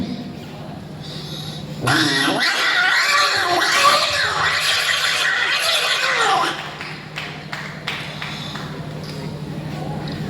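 A voice mimics two cats fighting, yowling and screeching loudly for several seconds, then falling away into quieter scuffling noises.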